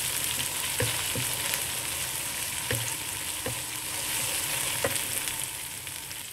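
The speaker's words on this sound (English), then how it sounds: "Okay, so the sambal has cooked well already." Sambal fries in a pan for bee hoon goreng with a dense, continuous sizzle, and occasional knocks and scrapes from a stirring utensil come through close by.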